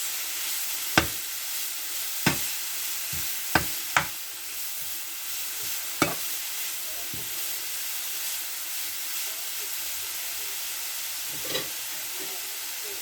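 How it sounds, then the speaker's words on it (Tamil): Grated carrots fry in ghee for carrot halwa under a continuous hiss, with occasional sharp spoon scrapes and knocks against the pan as they are stirred. "இப்போ நான் வந்து இந்த நெய்யிலையே நான் கேரட்டை போட்டு அப்படியே கிளறிக்கலாம்."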